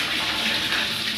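Water gushes steadily from an opened tap as a plumber flushes accumulated dirt and debris out of a clogged supply pipe, a dense continuous hiss with no pauses.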